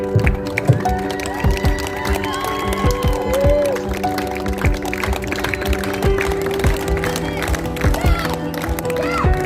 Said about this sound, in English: Okay, crowd, I'm going to need a little bit of clapping for this one.